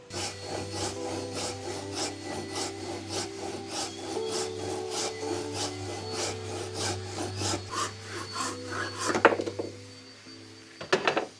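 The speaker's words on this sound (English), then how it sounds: "we're just finishing cutting all the skin fittings so the load bearers sit in nice and snug." A hacksaw cuts through boat skin fittings in steady back-and-forth rasping strokes, close and fairly loud, ending with a couple of knocks and a clatter, with no talking.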